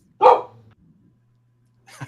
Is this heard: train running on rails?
no